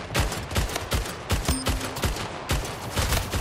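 Rapid bursts of gunfire in the arena shooter Splitgate Arena, roughly a dozen loud sharp shots in an uneven rhythm, close and dominant with no talking over them.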